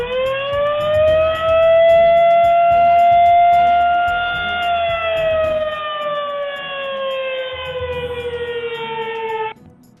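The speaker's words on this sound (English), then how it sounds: "The plant evacuation alarm has a continuous blast and sounds like this." Plant evacuation alarm sounding one continuous, loud siren blast, a steady wailing tone that rises slightly then slowly falls before cutting off near the end, with low rumbling background noise beneath.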